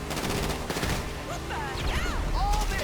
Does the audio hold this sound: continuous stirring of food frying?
no